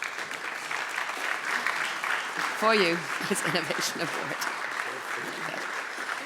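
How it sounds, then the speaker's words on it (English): Audience applause at an automotive supplier innovation award ceremony, a continuous bed of clapping running beneath a presenter speaking over it. "Another big round of applause, please"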